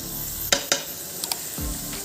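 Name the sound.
tomatoes and green chilies added to frying masala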